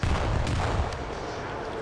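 Grenade blasts in a Call of Duty match rumble as one dense, booming burst of explosions and debris, loud and continuous over the short stretch.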